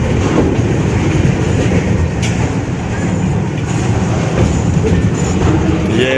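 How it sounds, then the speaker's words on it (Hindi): A Pakistan Railways train with new Chinese-imported coaches rolls past, a loud continuous rumble with rhythmic wheel clatter, close by, while someone talks over it. "ये चाइना से इंपोर्ट की गई नई कोचें हैं जो अभी हाल ही में पाकिस्तान रेलवे ने इस्तेमाल करना शुरू की"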